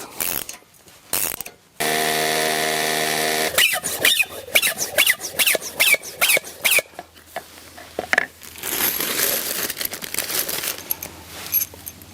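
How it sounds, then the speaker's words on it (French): A 17 mm wrench ratchets an expansion anchor bolt tight while fixing a pergola post to a terrace. There is a sustained buzzing ratchet run, then repeated short clicking and squeaking strokes, close and distinct. "j'expanse le goujon au serrage avec une clé de 17"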